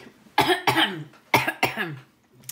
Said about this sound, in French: Ça faisait longtemps que je n'avais pas toussé.